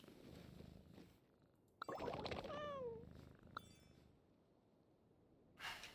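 A cat in Genshin Impact gives a quick run of rising and falling meows over a low purring rumble, with a brief sharp tap and a later burst of noise at the end.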